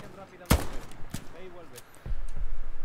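Gunfire in the World War II shooter Hell Let Loose at the Omaha beachhead: a sharp close shot followed by scattered distant cracks and rumbling fire, with a low-frequency swell later in the clip.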